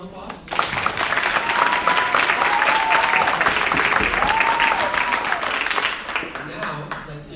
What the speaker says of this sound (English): Can we give both candidates another round of applause?